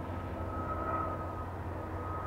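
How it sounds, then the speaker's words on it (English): A single-engine propeller airplane approaching the runway at Austin Bergstrom International Airport drones steadily at a distance, a low, even engine hum with a constant tone. "Single engine, propeller driven contraption,"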